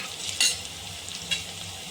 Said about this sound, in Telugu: ఎర్రగడ్డలు ఎర్రగా వేసుకుంది ఫ్రెండ్స్ ఇది మీడియంగా వేసుకోవాలి